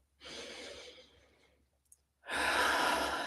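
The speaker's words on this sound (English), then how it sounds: "take a few deep breaths with me" Two long, slow breaths during a guided stillness exercise for therapists, a soft drawn-out exhale and then a fuller, louder one after a brief pause, close and with no talk.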